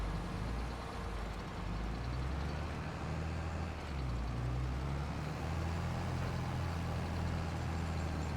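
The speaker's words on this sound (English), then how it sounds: "Using the tractor to straighten these bales out just a little bit." Tractor engine in Farming Simulator 22 working round hay bales on a farm, a steady low diesel drone running continuously and fairly close with little change in pitch, no voices over it.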